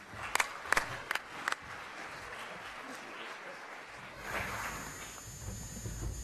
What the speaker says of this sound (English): let's give Don a round of applause for being here